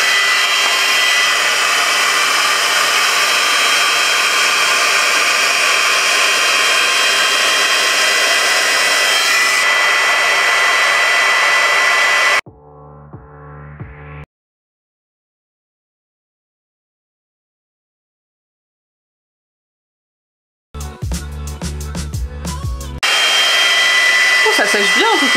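A GHD Duet Style hot-air hair styler runs its fan with a loud, steady blowing whir close by, then cuts out into near silence before some clattering handling noise and the whir resumes.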